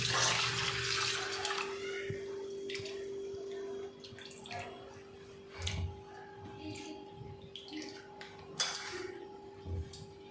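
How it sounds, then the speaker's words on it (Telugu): Cleaned prawns are rinsed in a bowl of water for an Andhra-style gongura dish, with close, busy splashing and clinking of utensils over a steady background hum. "ఇప్పుడు మనం నీట్గా దీన్ని వాటర్తో వాష్ చేసుకుందాం."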